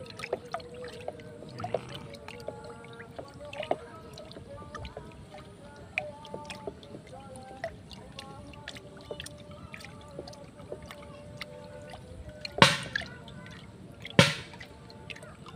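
A fermented liquid fertilizer mixture is stirred in a container, giving wet sloshing, dripping and squishing sounds at close range, with a couple of louder splashy knocks near the end.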